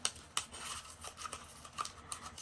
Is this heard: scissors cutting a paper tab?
yes